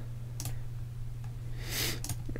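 Mouse clicks on a computer while tiles are selected in a GameMaker strategy game, a few sharp isolated clicks over a steady low electrical hum with a brief hiss partway through.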